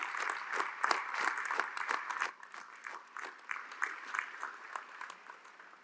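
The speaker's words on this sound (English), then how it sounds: "let's give them a big round of applause" A large audience at the Georgia Institute of Technology Class of 2023 commencement breaks into sustained applause, dense clapping that gradually thins and softens across the hall.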